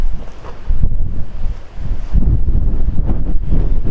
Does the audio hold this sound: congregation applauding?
no